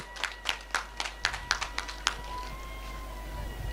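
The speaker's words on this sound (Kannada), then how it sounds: "ಚಪ್ಪಾಳೆ ತಟ್ಟರು ಒಂದು ಕರ" About a dozen sharp, evenly spaced claps from an audience at a Kambala buffalo race semifinal ring out over a low hum, then stop, leaving only the steady background drone.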